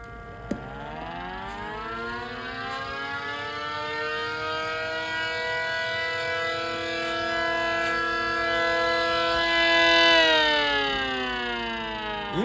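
An underpowered miniature ACA Cyclone 125 civil defense siren winding up from a low growl into a loud, steady multi-tone wail, holding for several seconds, then beginning to wind down, heard fairly close.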